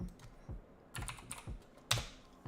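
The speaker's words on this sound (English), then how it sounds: "I have a very click-clacky keyboard" Fingers typing on a clicky, clacky computer keyboard, quick close clicks in small bursts with short pauses between them, alone and fairly quiet.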